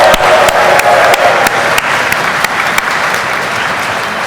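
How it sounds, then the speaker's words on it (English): Loud, sustained applause from a large conference audience at PyCon UK, dense clapping with a few sharp claps standing out and faint cheers mixed in, no talk over it. "The audience will erupt in cheering, stamping feet, and applause"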